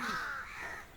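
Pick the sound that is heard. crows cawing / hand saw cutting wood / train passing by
crows cawing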